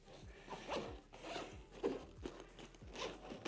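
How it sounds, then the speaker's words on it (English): Several quick zipper pulls as the pouches of a KTM Ogio Comp tool belt bag are unzipped, each a short close rasp with brief pauses between, repeating through the clip. "Next up, unzip those."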